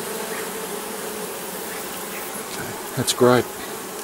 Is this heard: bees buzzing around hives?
yes